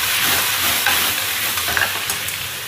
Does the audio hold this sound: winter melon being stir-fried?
yes